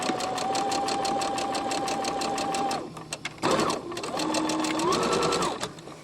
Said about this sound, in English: now all I have to do is sew along that smooth part all the way to the end